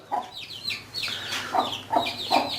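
Light Brahma chickens and chicks clucking in a coop, a run of short, close, fairly loud clucks and squawks in uneven bursts, with no talk.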